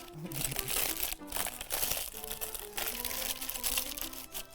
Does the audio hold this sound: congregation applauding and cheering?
no